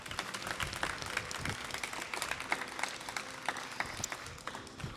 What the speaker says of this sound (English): So let's give a huge round of applause for them.